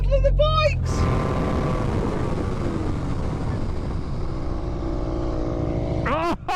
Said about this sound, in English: now we're going to have a brake test from 100 miles an hour